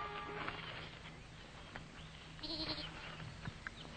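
A goat bleats briefly at moderate distance, a short wavering call rising over a quiet background with light ambient rustle.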